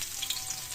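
Garlic hitting a hot pan in a Filipino home kitchen while lomi is being cooked, giving a brief, steady, bright sizzle with no voices.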